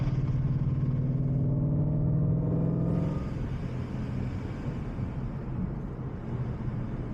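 A deep, steady engine rumble from a 2011 Ford Mustang exhaust with over-the-axle pipes, resonators and Corsa GT500 axle-backs idles and churns continuously at night, loud and low, its tone shifting slightly partway through.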